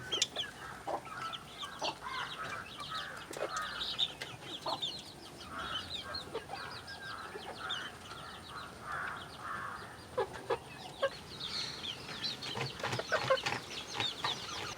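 Chickens, mostly roosters, clucking on a small home chicken farm: repeated short clucks and occasional chirps at moderate distance, fairly faint and continuous, with no speech over them.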